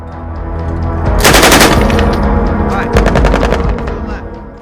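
Bursts of machine gun fire, a dense rapid volley followed by a second sustained burst, loud and close with a rumbling low-end tail between shots.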